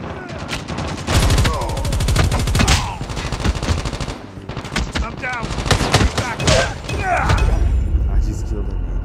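Rapid automatic gunfire bursts in the Call of Duty Mobile video game, a hard-recoiling weapon firing loud repeated volleys with brief gaps, mixed with game effects and a voice talking over the shooting.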